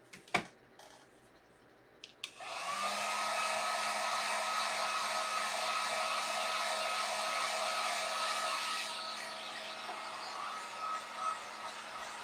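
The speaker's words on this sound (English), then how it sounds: "I'm just gonna dry it with my heat gun." A heat gun drying a fall home decor craft starts after a few clicks and handling noises, then blows as a steady, close whooshing hiss for several seconds before switching off, followed by faint rustling.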